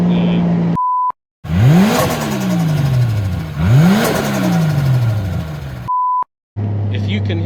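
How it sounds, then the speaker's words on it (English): Turbocharged 1JZ engine in a UK-spec 1999 Nissan Silvia S14, revving in two loud sweeping pulls with turbo whoosh and flutter on lift-off, close by, with short beeps before and after. "the turbo sounds mad when you let off"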